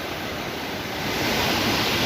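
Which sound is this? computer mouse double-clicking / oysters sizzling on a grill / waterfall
waterfall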